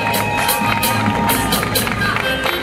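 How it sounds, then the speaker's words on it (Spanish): Audience at a Mister International Panama Este pageant cheering and applauding as a finalist takes a last runway walk; a loud, dense crowd roar with scattered whoops and claps runs steadily throughout. "Un fuerte aplauso."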